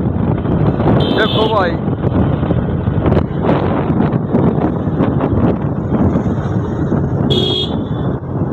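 Cold mountain wind blows at Mussoorie, a steady loud rush buffeting the microphone throughout while someone talks over it, with a couple of brief high beeps.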